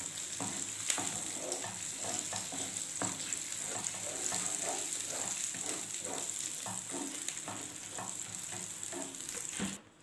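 Caramel with natural butter sizzling in a pot while being stirred for caramel popcorn, a steady close frying hiss with soft repeated scraping strokes and no talk.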